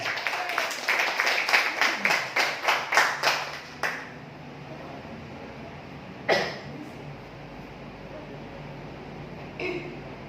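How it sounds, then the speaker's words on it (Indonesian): A small audience at a PT BEST marketing plan gathering gives a short burst of rhythmic clapping, about a dozen even claps that stop abruptly, followed by quiet room tone with a couple of isolated knocks. "Aplaus buat PTBes."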